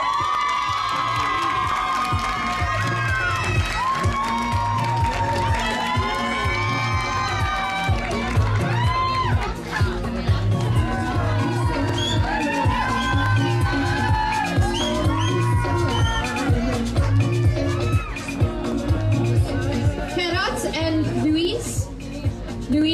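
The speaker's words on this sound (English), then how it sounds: "another round of applause for the couples." Cheering, whooping and clapping from a large crowd at a bridal couple of the year event, loud and sustained for the whole stretch, with excited shouts and voices mixed throughout.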